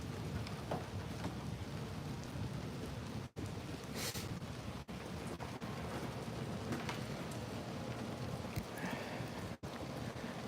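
Rain falls steadily outdoors during a thunderstorm near a mountain, a dense, even hiss of drops with a few brief gaps and no voices.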